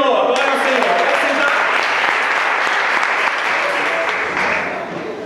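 A congregation at a church missionary conference claps loudly and continuously in a steady wash of applause that fades slightly at the end, with voices mixed in.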